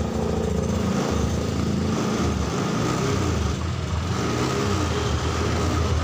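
A Honda Scoopy keyless fuel-injected scooter with a badly drained battery idles steadily nearby, a continuous low engine hum and rattle lasting six seconds with no talk.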